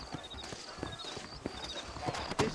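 Horse hooves clip-clop at a steady walking pace in Red Dead Redemption, a series of distinct, moderately near hoof strikes on hard ground with faint background ambience.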